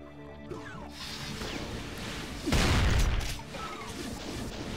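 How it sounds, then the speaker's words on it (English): Gunfire and explosions in the video game Brutal Doom, a chaotic run of shots and crashes capped by one loud, booming blast midway, then continuing rattling fire. "That's a lot of gunfire."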